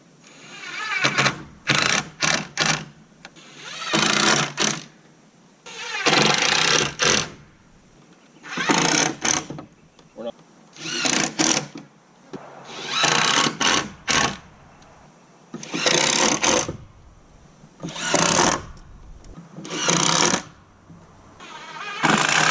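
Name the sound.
driving Kreg pocket hole screws into wood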